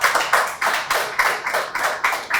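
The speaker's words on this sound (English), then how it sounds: "Can you clap for me?" An audience at a talk on the music industry claps together in a steady, even rhythm, about eight loud beats in quick succession.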